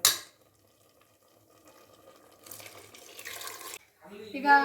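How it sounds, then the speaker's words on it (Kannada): Water is poured into a pot of traditional sundekai sambar, a soft splashing, trickling pour running for a couple of seconds before a louder clatter near the end. "ಈಗ ಸಾಂಬಾರಿಗೆ ಎಷ್ಟು ನೀರು ಬೇಕು ಅಷ್ಟು ಹಾಕಿ ಸಾಂಬಾರು ಹೆಚ್ಚಿಸ್ಕೊಳ್ಳೋಣ"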